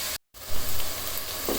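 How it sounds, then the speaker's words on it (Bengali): Beef with its fat sizzles hard in a pan as it browns for a Bengali beef curry with radish. A loud, steady frying hiss runs close-up throughout, broken only by a very brief dropout near the start. "এই যে প্রায় তিন চার মিনিটের মতন ভেজে নিয়েছি মাংসটা"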